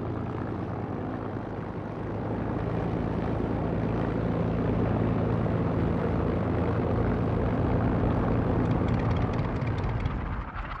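A wartime RAF Supermarine Spitfire fighter drones past, its propeller engine a loud continuous roar that swells and holds steady across the whole stretch, with no voices.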